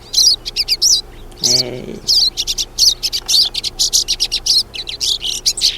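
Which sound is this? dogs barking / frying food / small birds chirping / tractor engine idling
small birds chirping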